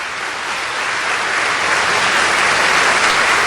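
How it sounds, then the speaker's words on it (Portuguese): A church congregation applauding during a sermon, a steady wash of many hands clapping that holds evenly and swells slightly for several seconds with no voices over it. "Vamos aplaudir o nosso Deus."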